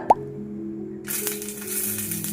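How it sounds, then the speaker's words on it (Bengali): Two dried red chillies drop into hot oil left from frying chicken: a single soft plop, a short pause, then a sudden, steady hissing sizzle that carries on close by. "চিকেনগুলো ভেজে আমি তুলে নিয়েছি সেই তেলেই দিয়ে নেব আমি দুটো শুকনো লঙ্কা"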